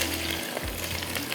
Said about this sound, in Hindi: ऑयल का तड़का लग गया